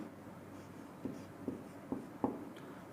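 Chalk or marker strokes on a classroom board during a physics lesson, four distinct short scratchy taps spaced about half a second apart, faint and close over quiet room tone.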